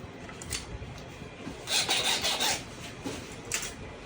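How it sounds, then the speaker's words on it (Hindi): A bike key is filed by hand with a rasp at a key-cutting shop, giving soft scraping strokes in short irregular bursts, fairly close and quiet, with no talking. "तो ये चाबियाँ मैंने बनवाई हैं, ये देखिए एक चाबी बनवाई है मैंने बाइक की। लेकिन पहले ये ना रेती से कर रहे थे"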